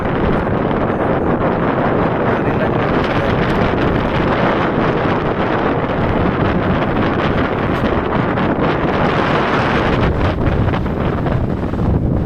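Strong cold wind buffets the microphone in a steady, loud roar that never lets up, with rushing gusts throughout, beside the flooded Chenab River in Punjab, Pakistan.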